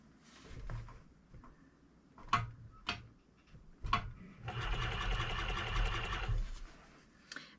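A sewing machine stitches through a thick fur hide in a long, steady run of rapid stitching near the end, after several short clacks and bursts of handling noise.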